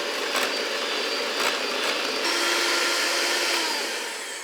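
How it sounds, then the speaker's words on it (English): An electric mixer whirs steadily as it beats egg yolks for a keto chocolate peanut butter roll, a loud, even motor drone with a faintly shifting pitch that lasts the whole stretch and has no talking. "We're going to beat the egg yolks."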